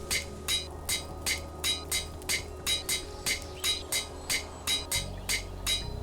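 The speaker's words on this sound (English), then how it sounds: "Using a hammer, I welded them together while they were still hot." A hammer strikes hot metal ingots on an anvil in the Minecraft video game, ringing clinks repeating at a steady rhythm about twice a second, bright and metallic over a low ambient hum, with no talk.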